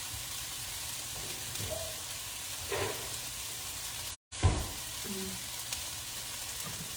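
Taco filling with garlic sizzles in a pan, a soft steady hiss with faint pops and a brief clatter of utensil noise midway, no voices.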